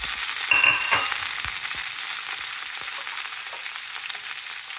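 Chana dal, chopped onion and green chilies sizzling steadily in oil in a pan, a close, continuous frying hiss with a few stirring clinks early on and no voices.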